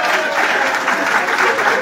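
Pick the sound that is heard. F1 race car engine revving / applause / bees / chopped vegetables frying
applause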